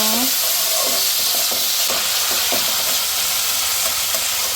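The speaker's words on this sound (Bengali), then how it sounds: "আলুর সাথে পেঁয়াজ একসাথে ভেজে নেব" Sliced potatoes and onions fry together in a pan for a prawn dish, a loud, steady sizzle with scraping stir strokes throughout.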